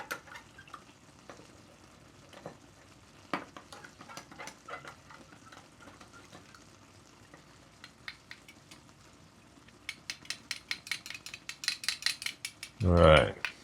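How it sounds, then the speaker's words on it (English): A spoon stirring a butter mixture as it dissolves into rum, heard as faint scattered clinks and scrapes that turn into a quicker run of light taps, ending in a louder clatter. "Just keep stirring to make sure it's all dissolved."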